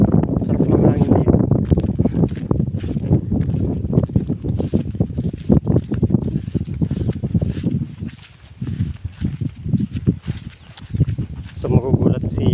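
Wind blows steadily across an open outdoor spot, rumbling low into the microphone as a continuous, fairly loud roar that eases briefly near the end.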